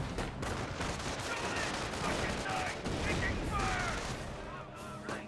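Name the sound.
gunfire in the video game Company of Heroes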